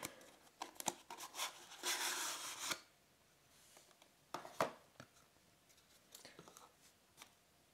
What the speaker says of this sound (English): So let's go ahead and open up the box.